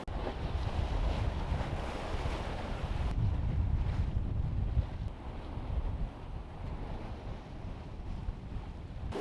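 Strong wind buffeting a sailboat at sea during a rough passage, a continuous loud roar and rush of gusts over the microphone, with water and waves sloshing beneath and no talk.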